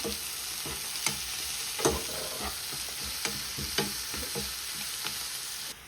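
Bitter gourd and green chilies sauté in a pan with a steady broadband sizzle, broken by several sharp scrapes and clicks of a spoon stirring, moderately loud and close, with no talking.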